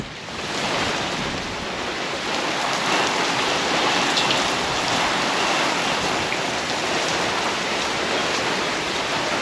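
Steady, dense rain pours outside, a loud broadband hiss of drops on surfaces that holds evenly for the whole stretch with no talk, during a sudden storm under a tornado watch.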